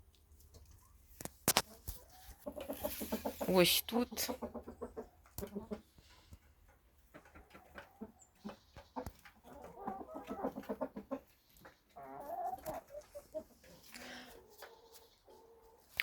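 Chickens cluck on and off around a yard, with a few sharp knocks and a brief spoken voice.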